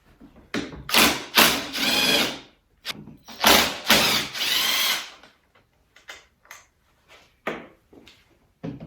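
Power tool bursts loosening bolts on a manual passenger seat from a 300ZX Turbo with a 10 mm socket: several loud whirring runs of a second or two, then a scatter of short clicks and thumps, close up.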